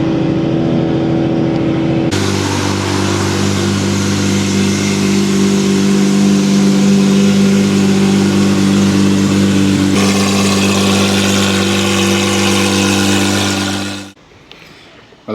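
A car engine, from a lineup including a 964 Turbo, GT1 Murcielago and K24 turbo RX8, catches and settles into a loud, steady close-up idle with a strong low hum before cutting off abruptly near the end.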